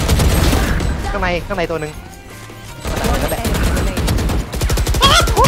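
Rapid automatic gunfire from the shooter game Valorant, with dense bursts of shots near the start and end, while excited voices talk over most of it.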